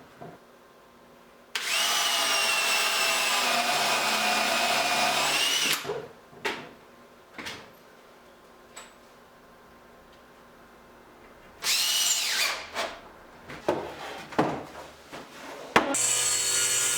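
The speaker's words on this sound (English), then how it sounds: "I pre-drill my holes and set my construction screws." Power drill driving construction screws into the wooden frame of a mobile workbench, with two long whining bursts separated by short clicks and knocks of handling.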